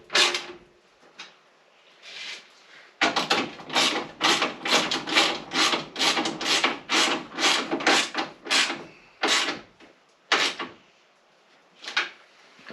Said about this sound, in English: I sanded down the top of the core support the best I could